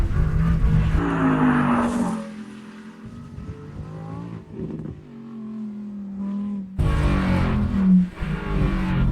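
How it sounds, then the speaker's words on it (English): Lamborghini Huracan STO with a naturally aspirated V10 revving loud and close, rising and falling through several sharp throttle blips with a brief lull in the middle before the engine surges again. "the engine is naturally aspirated, and the sound is one of the best sounds you can find on a supercar"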